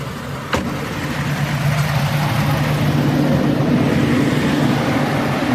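A truck used for RV transport idles while warming up, producing a steady low rumble and hum that stays constant and fairly loud after a brief click near the start.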